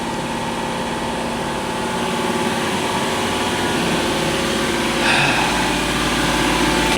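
A Lexus LS400 engine runs steadily at idle without coolant after sitting abandoned, a loud, close, continuous hum with no talk and a slight rise in tone near the end.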